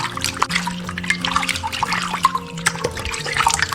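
Tap water running and splashing over raw beef as it is rinsed in a kitchen, an irregular stream of drips and trickles with small clattering knocks, close and fairly loud.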